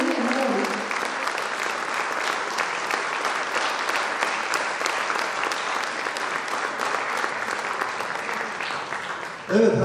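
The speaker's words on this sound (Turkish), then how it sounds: "Bence bu alkış yetmez" A large crowd at an album launch gala night claps long and loud, a thick wash of applause that holds steady before breaking off near the end.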